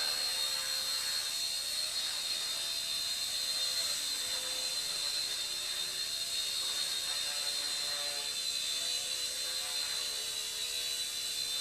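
A Hisky HCP60 micro RC helicopter flies nearby, its motor and rotor producing a steady, high-pitched whine and buzz that stays loud and unbroken throughout, with no talking.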